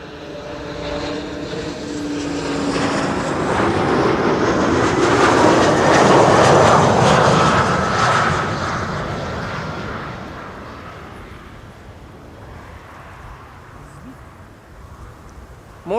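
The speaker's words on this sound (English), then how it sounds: "E2 Embraer 195 arriving from Brussels is going to the center runway" An Embraer E2 195 jet airliner arriving from Brussels lands at Schiphol, its roar swelling to a broad peak mid-pass and then fading into a steady rumble, with faint voices early on.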